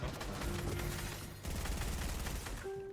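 Gunfire in a shooter video game rattles in long continuous bursts of rapid shots, dense and steady, broken by one brief gap, with a short electronic tone at the end.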